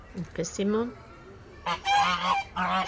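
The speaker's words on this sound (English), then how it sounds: "There's one of the geese, the most aggressive geese." Geese honk in a poultry house on an old food-forest farm, a few loud close calls in short bursts with brief gaps between them.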